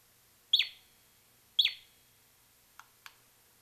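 Lucky Duck Trap Bait digital caller giving two shrill, sharp chirps about a second apart, followed by two fainter short ticks, each standing alone against quiet background.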